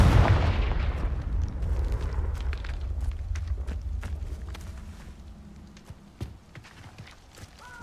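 A Confringo fire-blast spell cast in Hogwarts Legacy, a loud booming burst at the start that decays into a rumbling tail, followed by scattered footsteps and small clicks of game sounds.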